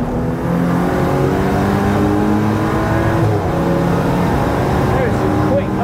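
Fast race cars lapping a track, engines droning loud and close from an onboard perspective with steady high revs and shifting pitch, someone talking over the noise.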